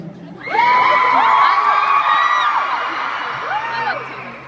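A concert crowd at a show cheers and screams loudly, with shrill whoops rising over a dense, sustained roar that swells and then eases slightly.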